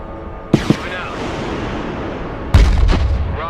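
Anti-tank guided missiles launch in the Broken Arrow war game, two sharp close reports followed by a rushing whoosh, then a heavier booming blast near the end, under some talk.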